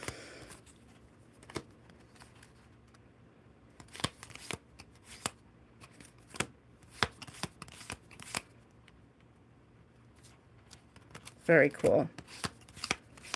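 Tarot cards shuffled and handled off to one side, with intermittent crisp flicks and slaps spread sparsely through the stretch, a louder flurry near the end, and brief speech in between.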